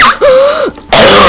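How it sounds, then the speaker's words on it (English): A single loud throat-clearing cough, harsh and close, followed by a brief voiced tone and a sharp burst of noise. "You start coughing."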